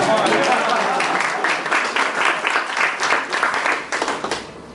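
Audience clapping at a Toastmasters club meeting, a full round of many hands applauding loudly and continuously, then thinning and fading toward the end.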